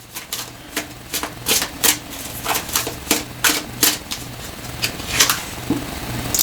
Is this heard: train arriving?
no